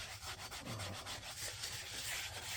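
A stiff brush scrubs a cast iron pan, producing a steady, rough rubbing with rhythmic back-and-forth strokes, close and fairly quiet, with no talk.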